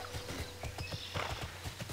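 A horse gallops in the online role-playing game Tera, its hoofbeats thudding in a steady, rapid rhythm over a constant background score, with a brief neigh at one point.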